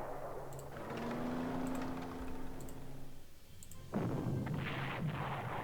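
Artillery fire in the World War II strategy game Panzer Corps Gold, with faint regular ticks over a rumbling bed, then a sudden louder burst of booming shots that carries on to the end.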